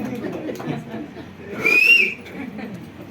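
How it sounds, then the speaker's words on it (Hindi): A woman in an audience whistles once, a short bright rising whistle lasting about half a second amid the murmur and chatter of the crowd. "देखिए एक तरफ से सीटी भी बज गई और किसी आदमी पुरुष ने नहीं बजाई, किसी महिला ने सीटी बजाई"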